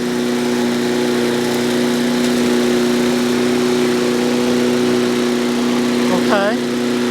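A John Deere JS63C zero-turn mower engine drones steadily at close range while the machine turns, a constant loud mid-pitched hum with a brief squeal of a rising whine near the end.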